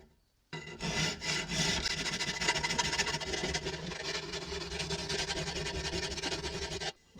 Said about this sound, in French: Et vous verrez qu'on lime beaucoup plus vite.